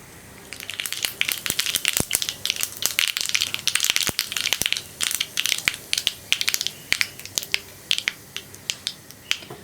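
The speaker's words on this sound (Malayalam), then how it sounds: "കടുകൊന്ന് പൊട്ടി തുടങ്ങട്ടെ" Mustard seeds pop in hot oil: rapid, close, sharp crackles and snaps, dense and irregular, continuing throughout.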